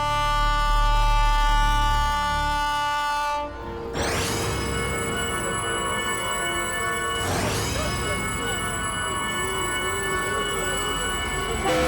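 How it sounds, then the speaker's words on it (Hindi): A train approaching on railway tracks, its horn blaring loud and sustained with shrill wheel squeal and a rising rumble. The horn briefly cuts out, then returns and holds, with no speech. "अभी 2 मिनट में ट्रेन आएगी, फिर देखना"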